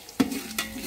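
Onion frying in oil in a pan, a quiet sizzle punctuated by two brief stirring scrapes, close and faint.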